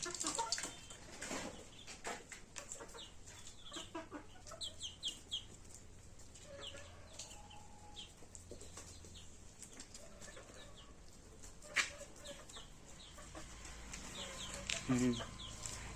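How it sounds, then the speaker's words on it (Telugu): Country chickens cluck and call softly across a busy outdoor scene, with occasional wing flaps and scattered faint voices in the background. "ఇవి మన లోకల్ కోళ్ళు"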